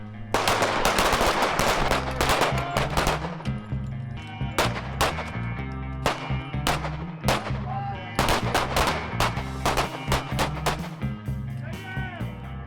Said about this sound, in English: getting straight into some live fire, doing some shooting